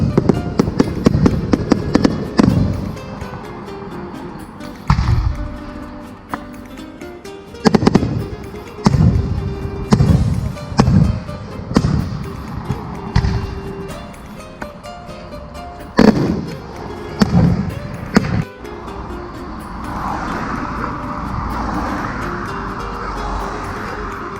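Fireworks burst in a series of sharp, booming cracks, some close and loud, others thinner and more distant, with irregular gaps between volleys and a rumbling, noisy tail toward the end.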